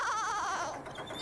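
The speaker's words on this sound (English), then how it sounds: "Oh, now the sheep are getting out." A sheep lets out a single wavering bleat, close and fairly loud.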